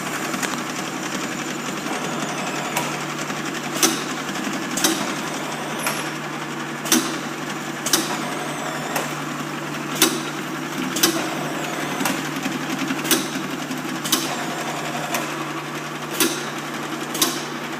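A fill motor running on a piece of equipment, a steady mechanical hum with sharp clicks or knocks repeating at roughly one-second intervals throughout.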